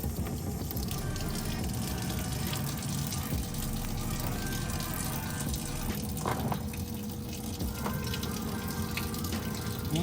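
Old coolant drains from a 2009 Mazda 6 with a 3.7L engine during a coolant flush, a steady close gushing and splashing of liquid that runs continuously without a break.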